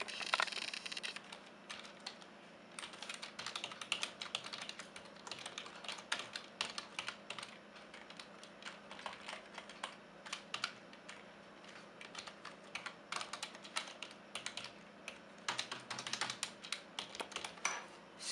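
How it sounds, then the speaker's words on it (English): Steady bursts of keystrokes on a computer keyboard, quiet and close, with irregular clusters of fast taps and short pauses while boot flags are entered for a Mavericks install on an AMD or Intel machine. "So again, I go there and I type my boot flags."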